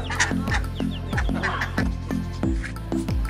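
Native desi chickens on a small farm cluck close by, a run of repeated short, falling calls in a quick, fairly regular rhythm.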